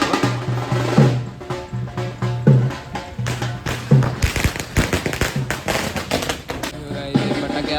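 A string of firecrackers bursts during a Ganpati immersion procession, rapid irregular cracks and pops crowding together, loud and close, over a steady drumming background.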